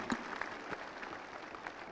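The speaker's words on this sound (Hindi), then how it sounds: "तालियां बजाएं" An audience at a Run for Oneness event applauds in a steady patter of claps, moderately distant and continuous through the moment.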